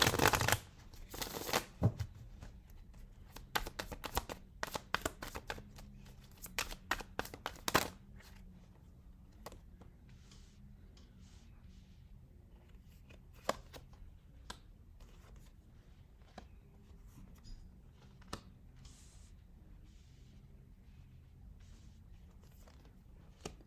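Tarot cards being shuffled by hand, with crisp riffles and slaps loud at the start and softer shuffling rustles continuing steadily afterward, no talk.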